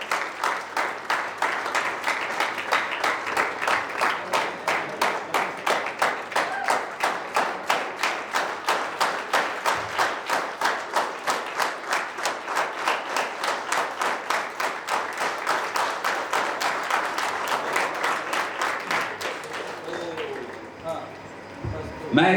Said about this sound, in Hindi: ये जो तालियां बजी हैं मेरे लिए